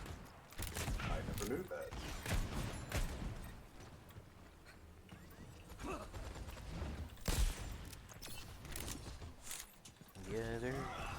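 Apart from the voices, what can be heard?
particle cannon weapon firing in a video game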